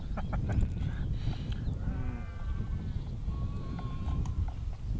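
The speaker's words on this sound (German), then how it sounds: "wo ich da drüben die Lämmer und die Schafe sehe" Sheep and lambs bleat in a pasture beside the river Elbe. Several wavering calls, some near and some farther off, rise over a constant rushing outdoor background, with faint knocking sounds.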